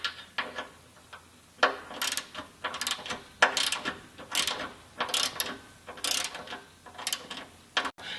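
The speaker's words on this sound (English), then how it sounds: "And go ahead and tighten them down." A hand ratchet tightening bolts on a Jeep JK body-mount tire carrier plate, bursts of quick clicking strokes repeating every second or so, close and crisp with short pauses between pulls.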